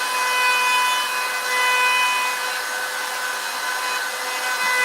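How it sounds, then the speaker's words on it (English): A router fitted with a profile bit cuts into a wooden sign, giving a steady, loud, high-pitched whine with slight wavering in intensity throughout and no voices. "now he's on to the profile bit"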